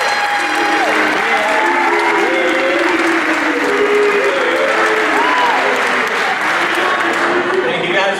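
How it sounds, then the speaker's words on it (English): Sustained applause from a crowd at a college awards night, honoring the Raiders volleyball team, loud and steady for the whole stretch, with a voice calling over the clapping. "Another round of applause for all these awesome Roane State student athletes and the best coaching staff in the TWCAA"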